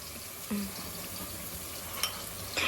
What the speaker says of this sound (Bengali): তো আমরা একটু বাটারটা দিয়ে একটু সটে করে নেবো পনিরটা।